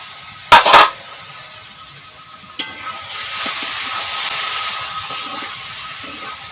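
A lid clatters briefly as it is lifted off a pot of ash gourd cooking with prawns, followed by a short knock and then a soft, rising hiss of escaping steam, close and quiet.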